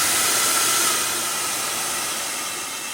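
Annlary ionic hair dryer running on a heat setting, giving a steady, close, breathy whoosh of airflow with a faint motor whine, easing slightly softer after the first second.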